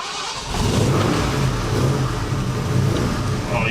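An abandoned plow truck's engine cranks and catches, then settles into a steady, loud mid-pitched running drone with slight revving, close by and without talk.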